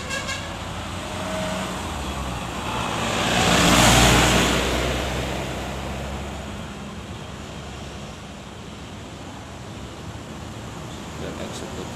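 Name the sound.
Bintang Utara Sultan bus arriving at the stop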